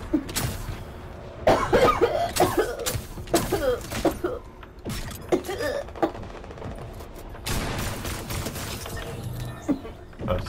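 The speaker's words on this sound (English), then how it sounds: "Why are you coughing?" Someone coughs repeatedly in harsh, irregular bursts during an online game session. The coughs are mixed with clattering game sounds and bursts of gunfire.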